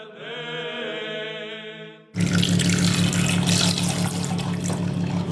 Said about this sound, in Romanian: Voi vărsa apa și voi pune apă rece.